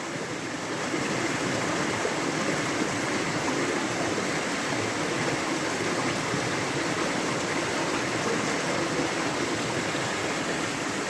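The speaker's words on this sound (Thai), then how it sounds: "อยากให้ฟังเสียงน้ำตกค่ะ" A waterfall of clear water pours steadily, a broad, unbroken rushing roar that stays level and close throughout, with no voices over it.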